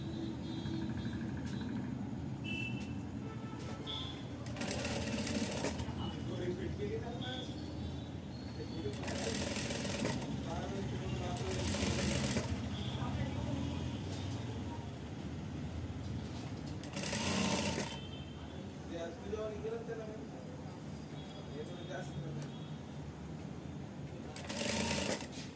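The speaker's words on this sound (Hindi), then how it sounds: "यहाँ पे जो है हमारी स्ट्रेट सिलाई हो जाएगी।" A sewing machine runs straight stitching along a blouse collar in bursts of fast, close whirring separated by pauses, while someone talks quietly in between.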